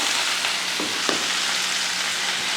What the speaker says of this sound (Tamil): தண்ணி ஊற்றாமல் இது போல் அப்படியே வதக்கி 2 நிமிஷத்துக்கு ஒருக்க அப்படியே வதக்கி விட்டு எடுத்திங்கனாலே பொரியல் ரெடி ஆகிடும்